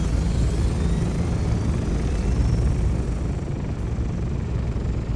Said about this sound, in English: Sorry, chopper gets a little bit loud.